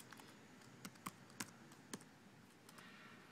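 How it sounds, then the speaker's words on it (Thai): Typing with one hand on a computer keyboard while entering an email address, a faint, irregular patter of key taps with a few sharper clicks, close and alone without talk. "พิมพ์มือเดียวก็อย่างเงี้ยนะคะ"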